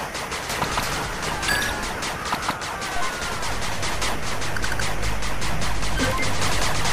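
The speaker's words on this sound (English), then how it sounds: "Machine gun turret under attack." Dense, continuous machine-gun fire and battle noise from the strategy game 8-Bit Armies fill the entire stretch at a steady, loud level.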